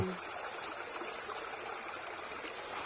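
River water flows steadily beside a bike trail, a continuous broad rushing hiss at moderate level with no distinct breaks, heard alone without talk.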